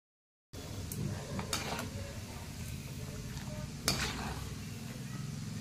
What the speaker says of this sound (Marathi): काजू छान तळून झालेले आहेत